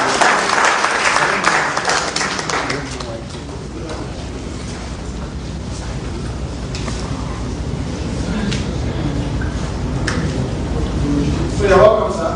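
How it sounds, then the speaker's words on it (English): An audience claps at a party presidential primary event in Abuja, a broad sustained round of applause that rises loud at first and then settles into steady clapping, with voices and hall noise mixed in. "Please, a round of applause for me."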